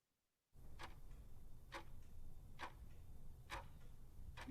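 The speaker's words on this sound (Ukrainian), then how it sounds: "так звучить годинник" A clock ticks steadily, about one sharp tick per second, each one distinct and close against a faint background hiss after a brief silent start.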